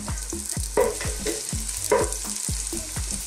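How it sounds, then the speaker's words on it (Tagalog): Garlic sautéing in hot cooking oil in a pot, a steady close sizzle with repeated stirring scrapes recurring every half second or so, no talking over it. "First step natin, syempre, magsusote tayo ng garlic."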